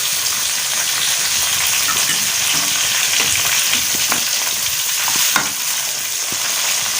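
Tomatoes and onions sizzle in ghee in a pan, producing a loud, continuous hiss with spatters, a few soft stirring scrapes and one brief clink near the end, and no talking.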